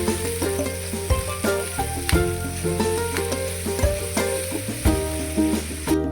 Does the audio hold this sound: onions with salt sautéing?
yes